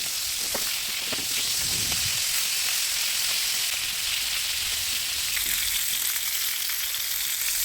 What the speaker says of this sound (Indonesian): Sambil menggoreng ayam,